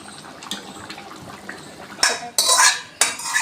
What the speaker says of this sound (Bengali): এভাবে উঠিয়ে নেব হাতা দিয়ে।